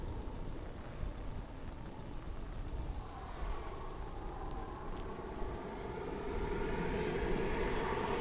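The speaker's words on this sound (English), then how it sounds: "And that's one of those 737-800s, of which American Airlines has many." American Airlines Boeing 737-800 jet at DFW International Airport, heard as a steady, moderately distant engine roar that swells and grows louder toward the end as the plane passes.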